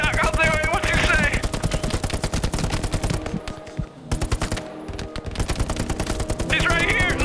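Rapid automatic gunfire and scattered shots from the World War II shooter Hell Let Loose, loud and nearly continuous near a church, with a short lull midway while players shout over it.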